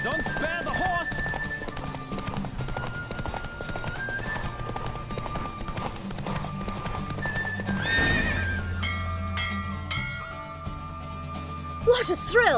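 Horse hooves pounding in a fast gallop with a whinny and game-style effects over a music bed, rushing along continuously, from the video game The Witcher 3.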